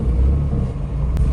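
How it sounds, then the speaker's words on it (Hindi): Inside a Tata Nano on a road so narrow that only one vehicle fits at a time, as an oncoming car approaches: a steady, loud, low engine and road rumble runs throughout. "गाड़ी आ गई सामने से"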